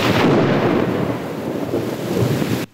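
Thunder from a Kalbaishakhi storm over southern Bangladesh: a loud, deep, sustained rolling rumble that swells early, lingers with rain beneath, and cuts off abruptly at the end.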